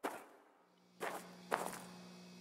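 Footsteps in a horror video game: three separate soft thudding steps, about half a second to a second apart, over a quiet low hum.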